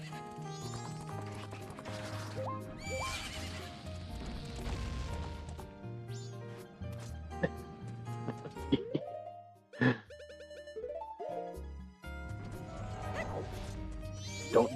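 A game horse neighs in Majora's Mask randomizer gameplay, a whinny among busy video game music and sound effects, with occasional clip-clop and impact sounds.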